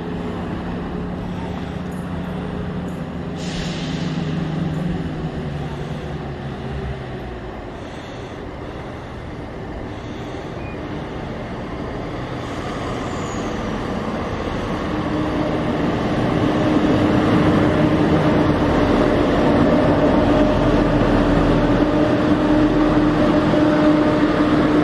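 A local train arrives at a platform near the Forth Bridge, its low rumble growing steadily louder and closer over wind and open-air background noise.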